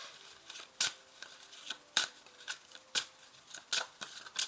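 A deck of oracle cards being cut in two and shuffled, with a series of sharp, crisp card snaps and riffles at an irregular rhythm, close and fairly loud, with no one talking.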